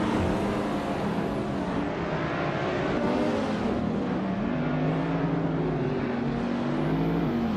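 Race cars in a racing video game roar continuously, engines revving and shifting in pitch as they accelerate, a dense, loud layered drone with no voices.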